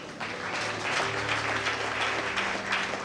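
A church congregation claps together during a worship service, a dense round of applause that starts abruptly and stays loud and steady, with faint organ or keyboard tones sustained underneath.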